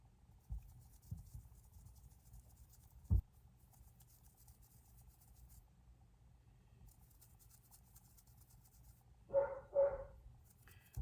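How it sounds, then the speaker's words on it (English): A golden retriever barks twice in quick succession near the end, sharp and fairly loud from a little distance, after a long stretch of quiet room noise with faint scratching and a single knock. "He's got the loudest bark I've ever known."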